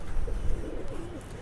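Rampuri pigeons, a jumbo-size breed, give a low, soft coo close by, with a short rolling call in the middle and background noise around it.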